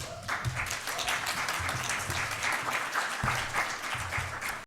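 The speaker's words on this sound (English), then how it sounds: "Thank you, Rachel, if you could give her applause." Applause from an audience at a National Bar Association panel event, a dense, steady burst of many hands clapping together, fairly loud and continuous for several seconds.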